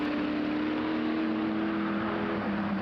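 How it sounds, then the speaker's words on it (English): Classic Jaguar racing car engines at the Imola circuit roaring steadily in the distance, a continuous droning hum with a faint rising pitch, echoing across the countryside. "You can hear those beautiful Jaguar engines just roaring and echoing through the countryside here in Imola."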